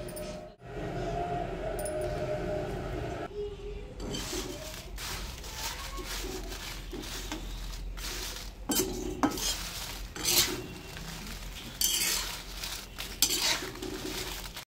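Dry red chilies stirred in oil in a pan for old-style nalla karam, steady frying hiss with repeated metallic scrapes and clinks of a spoon against the pan, growing busier toward the end.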